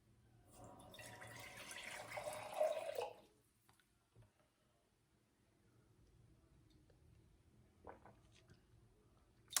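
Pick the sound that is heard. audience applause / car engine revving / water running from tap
water running from tap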